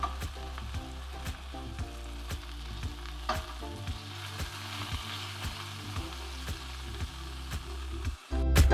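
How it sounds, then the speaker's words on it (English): Chicken pieces frying in a pan with garlic for chicken Marsala, a steady close sizzle with intermittent clicks and taps of turning the meat, ending in a sudden louder clatter. "they've been cooking for about 5 or 6 minutes, so I'll just turn them over, give them the same on this side too"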